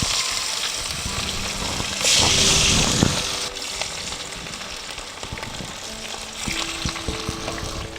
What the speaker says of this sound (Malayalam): നമുക്കിനി ചിക്കൻ കഷ്ണങ്ങൾ എണ്ണയിലേക്ക് ഇട്ട് കൊടുത്ത് ഫ്രൈ ആക്കിയെടുക്കാം.